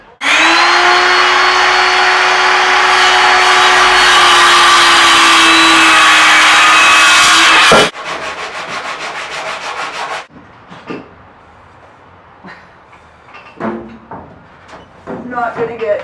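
Sanding on the roof of a camper truck, a loud, steady abrasive rasping with a droning motor tone that runs continuously for several seconds, then cuts off, leaving quieter scraping and handling noises.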